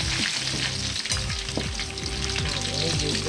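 Fried chicken pieces crackling and sizzling steadily in hot oil, a dense close frying hiss with scattered pops and some utensil scraping, no voices.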